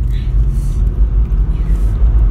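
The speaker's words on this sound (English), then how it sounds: "I think a car's passing us right now" Traffic on a road: a steady, loud low rumble of cars going past, close by and continuous, with faint higher hiss drifting in and out.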